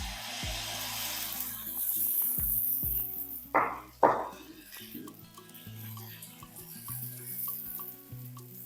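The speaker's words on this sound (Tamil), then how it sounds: "இப்போ நம்ம இதில் வந்து தோசை ஊற்றி காட்டுறேன் உங்களுக்கு" Dosa batter hits a hot pan and sizzles with a soft hiss, followed by a couple of brief scraping strokes, all under steady background music.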